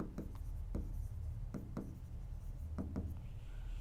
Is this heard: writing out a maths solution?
yes